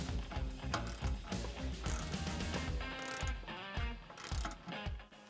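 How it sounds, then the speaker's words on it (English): A ratchet tightens the bolts on a Brembo brake caliper carrier fitted to a Peugeot 308 diesel, with repeated rapid clicking bursts up close and no talk. "Before bolting it to the carrier sliders and tightening securely."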